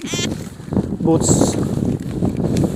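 Steady, blustery wind roars and buffets close to the microphone outdoors in Korea, blowing an umbrella inside out, a low rumbling rush with brief muffled voices and clatter mixed in.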